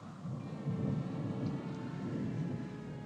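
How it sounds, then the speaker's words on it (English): Deep, continuous rumble of thunder from an approaching storm in a Western film set during the Irish potato famine, rolling steadily and loud with faint rain hiss above. "There's a storm coming up."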